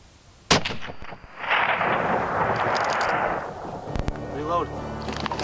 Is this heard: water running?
no